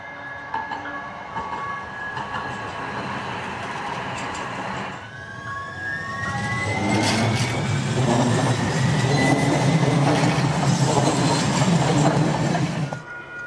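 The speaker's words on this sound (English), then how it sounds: "metro and light rail trains are louder than your neighborhood gas guzzler." Metro and light rail trains pass by, a quieter rolling rumble with squealing tones building into a loud, broad roar of wheels on track for several seconds before cutting off, with no one speaking.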